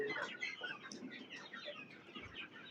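Desi chicks on a poultry farm peep and cluck in quick, high chirps, faint and overlapping as from a small group, with no voices heard.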